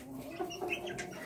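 Hens in a backyard flock of black, white and splash chickens cluck softly and steadily, a few short calls rising over a low continuous farmyard hum, close by and fairly quiet.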